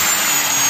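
A high-pitched angle grinder motor whine runs steadily at full speed after repair, loud and close, with a harsh hiss and no breaks.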